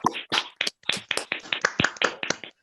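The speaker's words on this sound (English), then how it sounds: "give Roy his deserved round of applause" A handful of online participants clap for speaker Roy after a lunchtime history talk, their sharp, irregular claps close and uneven across an unmuted call.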